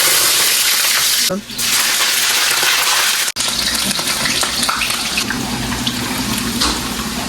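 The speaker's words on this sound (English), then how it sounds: "what I did before adding this onion is I kind of like wash it again because I've kind of chopped it for a while now" Chopped onion rinsed under a running tap, a loud steady gush of water close by that cuts out briefly twice, with a voice talking over part of it.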